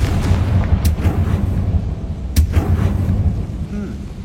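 Blasting-spell explosions go off in a Harry Potter video game, two sharp cracks followed by a deep rumbling boom that fills the whole stretch loudly.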